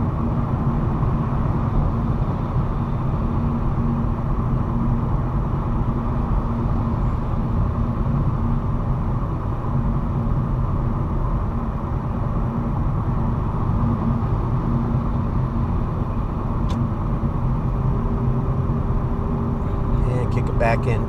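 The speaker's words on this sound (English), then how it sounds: "Kick her into neutral so we can maintain our speed down the hill." A hybrid car coasting in neutral down a hill at about 65 mph gives a steady, loud road and wind roar heard from inside the cabin, continuous and unbroken throughout.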